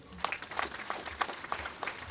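An audience at a girls' school event claps for sponsors in a quiet, rhythmic run of light handclaps heard from some distance.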